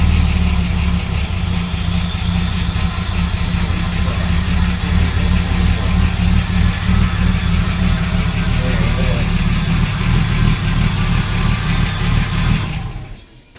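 A Ford AU turbo SOHC Intech engine runs steadily at idle on its first start, a loud, continuous rumble that holds for most of the stretch before cutting off abruptly near the end.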